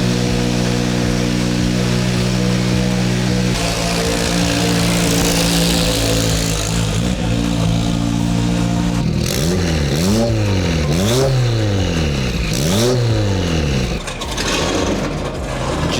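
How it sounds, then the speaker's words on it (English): A turbocharged 2022+ Subaru WRX engine with a big turbo kit on E40 fuel revs hard, climbing and falling repeatedly in loud rising surges over a steady droning idle. "Every time I turn the car on, I can actually hear the turbo spool now"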